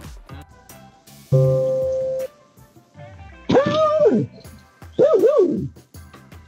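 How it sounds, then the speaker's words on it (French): A doorbell chime rings out, then a dog answers with two drawn-out, wavering barks that rise and fall in pitch, close and fairly loud. "Il se met à aboyer de façon confuse, précisément parce que la sonnette vient de retentir."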